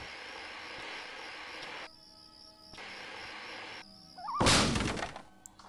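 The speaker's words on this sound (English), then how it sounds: "Can I just kick in the door?" A door kicked in during the video game Full Throttle: after a quiet, hollow stretch, a loud, sharp crashing impact bursts in near the end and then quickly dies away.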